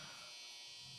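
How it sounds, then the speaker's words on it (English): A clothes dryer runs as a steady, faint electric hum and whir, continuous with no change and no voices over it. "That's my dryer"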